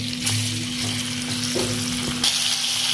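Potatoes fry in hot oil in a kadai, a dense steady sizzle with a low hum beneath and a few stirring knocks, swelling brighter toward the end.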